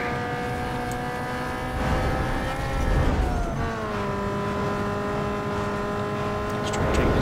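Race car engine at full throttle in Need for Speed Underground 2, a loud sustained roar with steady rising whine that drops at a gear shift and climbs again.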